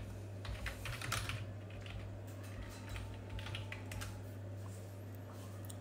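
Someone types on a computer keyboard in a quiet, close run of soft key clicks over a low steady hum, with no speech.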